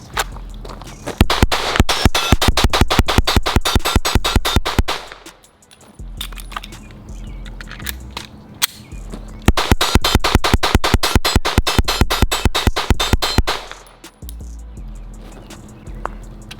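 A Springfield Echelon 4.0c pistol dumps its magazine in rapid fire. Two long strings of sharp, loud, evenly spaced shots are separated by a few seconds of quieter pause.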